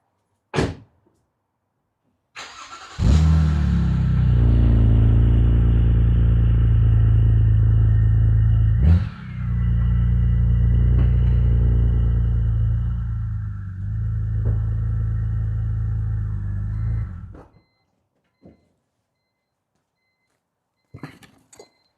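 Car engines idling during a home oil change on four cars, a steady low rumble that starts abruptly, holds for about fifteen seconds with a brief dip, then cuts off, followed by a couple of faint clicks.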